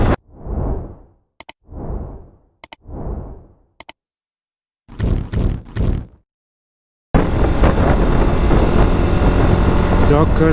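Suzuki V-Strom 1050 motorcycle with its 1000 cc V-twin engine, heard in short separate bursts of revving with silent gaps between them, then a dense, continuous stretch of sound to the end.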